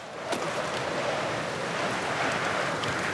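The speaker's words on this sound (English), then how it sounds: "Very windy indeed." Strong wind blows steadily in Alan Wake 2, a broad roaring rush that swells slightly and carries a faint sharp knock near the start.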